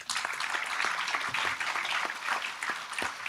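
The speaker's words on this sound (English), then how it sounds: "Please join me with a round of applause." An audience at a conservation forum in Kenya breaks into sustained applause, a dense wash of many hands clapping steadily from a moderate distance.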